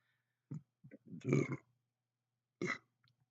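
A man burps after drinking Coke, giving a few close, guttural belches, one longer and rumbling in the middle and a short one at the end.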